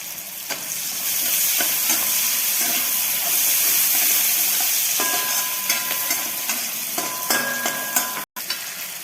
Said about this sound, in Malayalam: അതിലേക്ക് അരിഞ്ഞ് വെച്ച സവാള ചേർക്കാം.